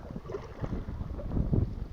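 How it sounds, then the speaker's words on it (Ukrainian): Steady wind buffets the microphone over open water from a boat while fishing, a low rumbling roar with gusts that swell toward the end, no voices. "бо вітер дме нормально"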